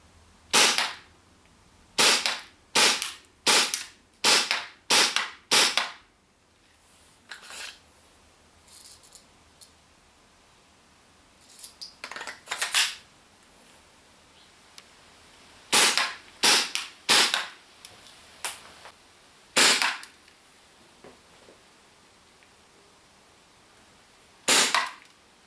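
Tokyo Marui Glock 19 gas blowback airsoft pistol firing 0.2 and 0.3 gram BBs: sharp, loud cracking shots, first a quick string of about eight, then scattered single and double shots after pauses, with no talking.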